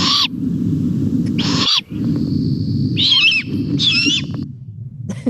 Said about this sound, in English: Well, it's a bird, I think.